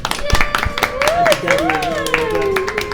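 Scattered hand claps ring out close by under cheerful voices, with a child's high-pitched speech rising and falling over them, at a martial arts class.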